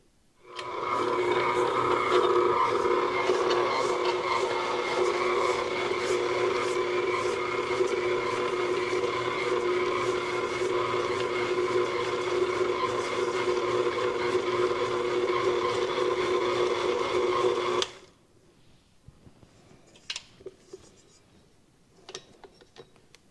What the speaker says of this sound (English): now we're going to turn this on and just mix it for a few minutes